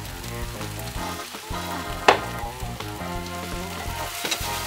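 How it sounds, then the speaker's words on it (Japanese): Sesame oil drizzled over a squid and green onion stir-fry sizzles loudly in a hot pan, a dense continuous crackle with a sharp clank of a utensil partway through. "ネギに火が通ったら、とどめにごま油を回しかけ風味付け。"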